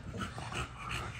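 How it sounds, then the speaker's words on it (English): Dogs whimper and pant close by, soft high whines over breathy panting, with no talking. "let them damn dogs out"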